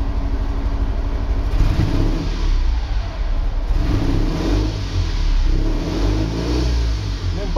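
A Panhard Dyna Junior engine revved gently while still cold, a continuous close mid-pitched engine drone with slight rises and falls in speed, alone without talk.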